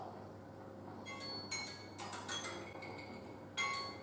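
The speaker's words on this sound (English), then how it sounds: "Timer's just going to go off." A kitchen timer rings faintly in a home kitchen while pasta cooks on the hob, with bright chiming tones in a few short bursts over a low background hum.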